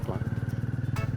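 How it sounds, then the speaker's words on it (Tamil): A Hero Maverick motorcycle engine pulls away in third gear with a steady, fast low-pitched exhaust pulse running throughout, close and fairly loud, with a brief higher noise near the end. "நான் 3rd கியரில் போட்டு வண்டியை ஸ்டார்ட் பண்ணுறேன்."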